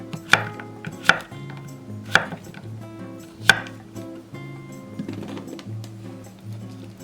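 A knife slices zucchini on a cutting board, giving four crisp, sharp cuts at irregular intervals and then softer chopping taps, heard over quiet background music.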